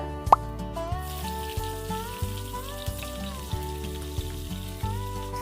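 Nigella seeds and slit green chillies sizzle in hot mustard oil, a steady frying crackle running beneath louder background music with a regular beat.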